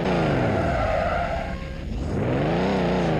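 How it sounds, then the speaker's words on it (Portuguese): A rented Range Rover Evoque doing a tire burnout, loud continuous squealing screech with engine revving beneath, dipping briefly midway before building again. "Vou queimar a pneu desse carro aqui, ó."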